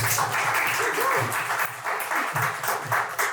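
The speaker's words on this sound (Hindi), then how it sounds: "एक बार रोहित भाई के लिए तालियां बजा दो यार।" Audience at a comedy talent show applauds steadily, a fairly loud, continuous wash of clapping with faint voices mixed underneath.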